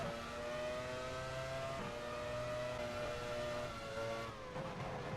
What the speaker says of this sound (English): now we are coming through the final chicane with Hakkinen close behind